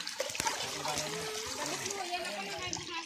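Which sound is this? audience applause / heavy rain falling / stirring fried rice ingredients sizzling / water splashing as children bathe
water splashing as children bathe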